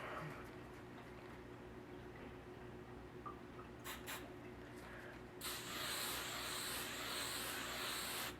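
Self tanner sprays from an aerosol can held like hairspray and aimed in a circle around the face, a steady broad hiss starting partway through and continuing loud and close over a low room rumble, with brief earlier spurts.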